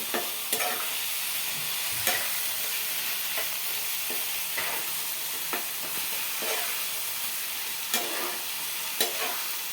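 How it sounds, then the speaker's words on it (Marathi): Mashed brinjal being stirred in a pan with salt, turmeric powder and plenty of coriander leaves. The pan gives a soft, steady sizzle, and the spoon scrapes at a regular rhythm, with no voices. "आपण खूप सारी कोथिंबीर घालूया आणि मिक्स करूया"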